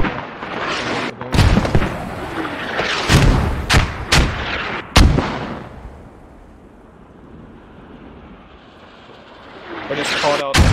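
Mortar and artillery fire in the military shooter Squad during a public scrimmage: several sharp, loud booming blasts land irregularly over the first five seconds, then a lower rumbling lull before another cluster of bursts near the end.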